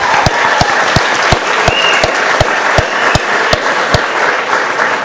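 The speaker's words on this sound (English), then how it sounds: "Let's give these guys one more round of applause." An audience at a high school athletics signing day applauds loudly, a thick wash of clapping driven by strong, evenly spaced beats, like rhythmic stomping or clapping in unison.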